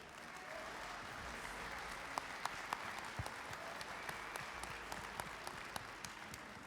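Audience applause for the candidates at a cooking contest on stage, steady dense clapping throughout with a few sharper claps standing out, moderately distant.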